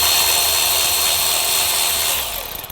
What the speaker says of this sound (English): Now we're gonna remove the oil filter housing. We're gonna undo this bolt over here first.